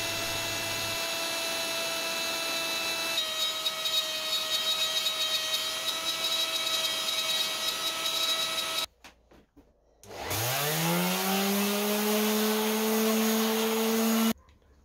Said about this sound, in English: I gave it a quick sand off.